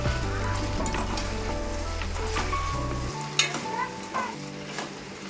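Tomato pieces tumble into a brinjal and broad bean curry frying in a pan, a steady close sizzle with a low hum, followed by a couple of sharper clatters as the pan is handled.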